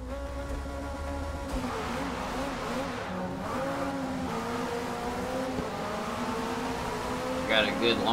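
A race car in Forza Motorsport launches off the starting line in rain, its engine droning steadily as it revs and accelerates, other cars audible around it, with someone talking over it.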